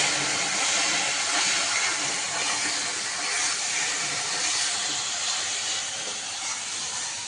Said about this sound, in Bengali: পেঁয়াজ রসুন একটু কষিয়ে নিচ্ছি।